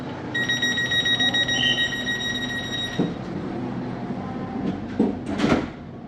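Electric commuter train at a ground-level station in Bangkok: a steady hum with tonal chime or alarm tones, followed by sliding-door thuds and clunks near the end.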